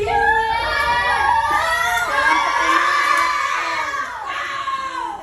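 A classroom of children cheers, shouts and claps for a student group that earned a good score, a loud, lively burst of young voices whooping together, close and continuous, fading slightly toward the end.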